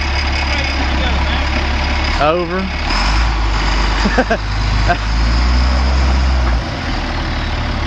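A stuck truck's engine drones loudly and steadily, rising into revs as the wheels strain and slide, with someone speaking briefly over it.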